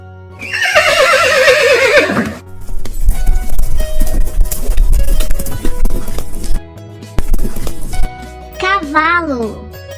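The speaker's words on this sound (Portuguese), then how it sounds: "Cavalo." A horse neighs loudly with a high, wavering whinny, followed by several seconds of mixed noise and thudding, then a second shorter whinny near the end.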